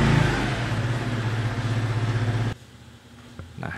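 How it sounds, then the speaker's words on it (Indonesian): Motorcycle engine passing in front, a loud throbbing mid-pitched drone with pulsing revs that cuts off abruptly, leaving quiet room noise and a faint click. "Sorry, ini di depan ada motor."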